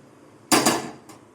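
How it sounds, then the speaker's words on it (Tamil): A metal cooking pot is set onto a kitchen stove before making grated paneer rice, giving one loud, close clank with a short rattling tail and a softer knock just after, with no talking. "ஃபஸ்ட்டு ஸ்டவ் ஆன் பண்ணி பாத்திரம் வச்சுக்கலாம்"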